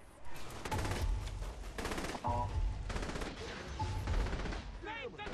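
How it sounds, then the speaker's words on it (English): Rapid automatic gunfire rattles in dense bursts in the Saints Row 3 video game, continuous and fairly loud across several seconds, with brief pauses between volleys. "Are you shooting at me?"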